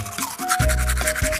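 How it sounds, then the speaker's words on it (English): A toothbrush brushing along the gum line, close wet scrubbing strokes in a quick back-and-forth rhythm, loud and alone. "it's very important for you to ensure that you're brushing along the gum line so that you can effectively remove the plaque"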